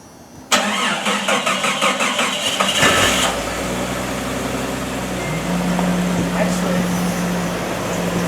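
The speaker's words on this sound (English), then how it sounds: "So we're gonna fire this thing up, and you'll get an idea of what it sounds like, and it's stone cold." A Jeep's 5.7 liter Hemi V8 cold-starts with a sharp crank and catch, a brief high rev, then settles into a steady, loud nearby idle; a voice is faintly audible.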